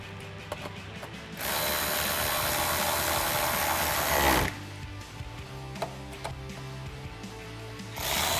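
A ratchet or driver tightens two 7mm screws holding the fins of an MP Concepts rear diffuser on a 2016-or-newer Chevrolet Camaro. A steady, fairly loud mechanical whir runs about three seconds, followed by lighter clicks and a second short burst at the end.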